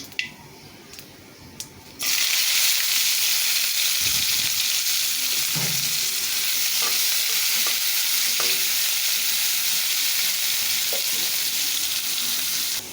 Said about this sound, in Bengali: তেল দিয়ে দিলাম জিরাটা দিয়ে দিলাম কয়েকটা পাঁচফোড়নও দিয়ে দিলাম